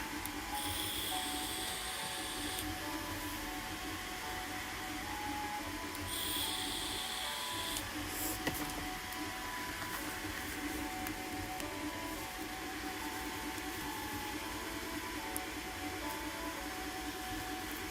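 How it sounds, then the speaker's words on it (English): A 3D printer runs in the background with a continuous mechanical hum and hiss, punctuated by a few higher whirring stepper-motor passages, faint and steady throughout. "if the noise in the background is really loud, it's just my 3D printer"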